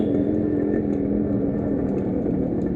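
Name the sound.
modified RX 100 motorcycle engine, loud exhaust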